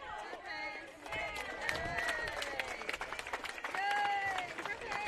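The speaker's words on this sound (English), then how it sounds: "clap hands for him" Spectators clap at a primary school swimming championship, a loud crowd of applause and chatter in an echoing pool hall, with children's and adults' voices and shouts throughout.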